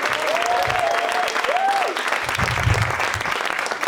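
Audience applause at a live concert for a guitarist, steady dense clapping throughout, with a voice briefly calling out over it.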